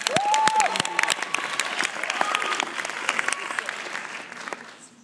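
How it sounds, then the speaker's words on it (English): A college audience greets a stand-up comedy performance with loud, dense applause and a short whistle at the start; the clapping holds strong and then gradually tapers off toward the end. "Big round of applause, everyone."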